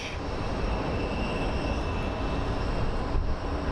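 An airliner pushing back at Phoenix Sky Harbor airport, heard as a steady, loud jet engine whine and rumble with a faint high tone running throughout.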